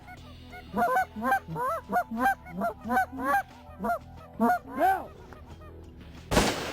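Goose calls honking repeatedly during a goose hunt, a quick series of nasal calls, then a sharp, loud shotgun blast closing the sequence, with a brief word spoken.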